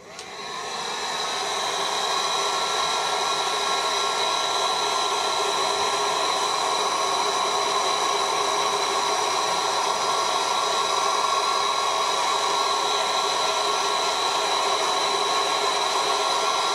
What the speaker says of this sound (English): So I've got the air gun